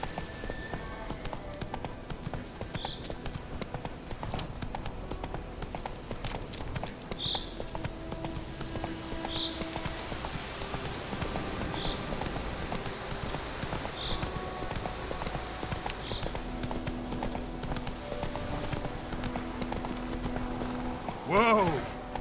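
Roach the horse trotting in The Witcher 3, steady clip-clop hoofbeats running through the whole stretch at moderate loudness, with a game soundtrack and occasional chimes underneath and a brief horse snort near the end.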